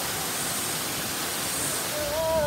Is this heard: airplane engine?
no